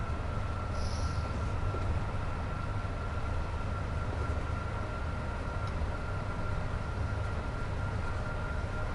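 Double-headed Class 37 diesel locomotives in Train Sim World 6 give a steady, dense rumble with a constant low drone and faint hiss, running on without letup and with no one talking.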